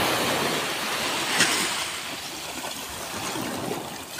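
Sea waves wash at a surfing beach in Claveria, Cagayan, with a steady roar of surf and wind and a slight swell of breaking water near the middle.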